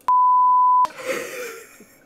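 A single loud, steady censor beep lasts just under a second, cut off abruptly, followed by faint muffled noise.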